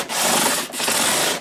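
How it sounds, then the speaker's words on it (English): Steady back-and-forth rubbing of a scrub block fitted with 400-grit abrasive across guitar frets, loud and close, in two long strokes with a brief pause between. "here's our first use of the scrub block with the 400 grit to just get rid of those minute"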